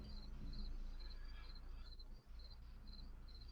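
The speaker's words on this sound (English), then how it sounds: "crickets are all over the yard" Crickets chirp in a yard at night in regular pulsing bursts, a steady rhythmic trill repeating every half second or so at moderate distance over a quiet background hum.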